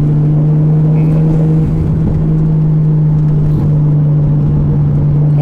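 Nissan Skyline R33 engine droning steadily from inside the car as it holds the same speed while gears are changed, a constant low hum with faint shifts in pitch.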